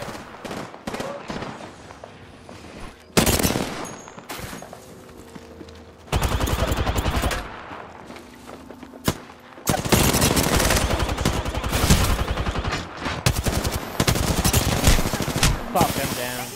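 Automatic gunfire from an Apex Legends match, with loud sustained machine-gun bursts and fusillades separated by short gaps, some shorter shots and footsteps mixed in, and occasional voices over the action.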